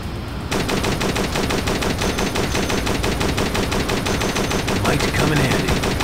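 Sustained automatic machine gun fire from a zombie first-person shooter, Dead Trigger 2, beginning after a brief pause and rattling on loudly and continuously in rapid bursts with no talk over it.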